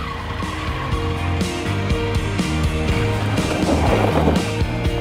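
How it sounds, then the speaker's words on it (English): A motorcycle brakes hard and skids during low-speed riding practice. A steady close engine drone runs throughout, with a rougher scrubbing skid toward the end. "smash those brakes on."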